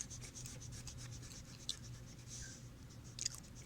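Soft pencil strokes and rubbing of an eraser on paper, a steady quiet scratching with a couple of small sharper ticks, close and alone.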